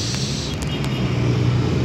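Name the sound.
Sempati Star bus passing by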